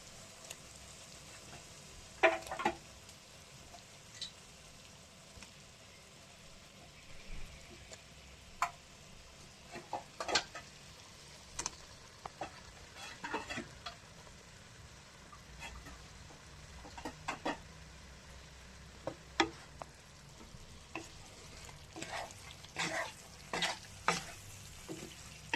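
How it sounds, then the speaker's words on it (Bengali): Bele fish pieces frying in oil with cooked-down spice paste, a soft low sizzle under scattered sharp ticks and clinks from utensils, quiet and without speech. "এবার মাছগুলো বসিয়ে দিচ্ছি।"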